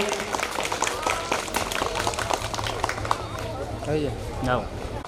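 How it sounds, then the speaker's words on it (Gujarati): An audience at a primary school award ceremony on 26 January claps in a sustained, dense ripple of applause, while a voice talks over it throughout. "ફરી વખત જોરદાર તાળીઓથી આ દિલેર દાતાશ્રીઓને વધાવીએ"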